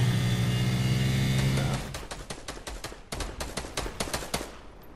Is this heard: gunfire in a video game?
yes